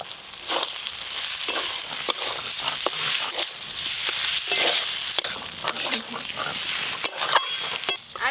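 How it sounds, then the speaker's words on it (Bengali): Fried potatoes being stirred into spice paste in a pan for a rustic Bengali prawn dish, with a steady sizzle and repeated scraping, clattering strokes of a spoon close by. "ভেজে রাখা আলুগুলো মশলাতে দিয়ে ভালো করে মিশিয়ে নেব"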